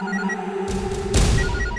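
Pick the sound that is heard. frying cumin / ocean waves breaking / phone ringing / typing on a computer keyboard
phone ringing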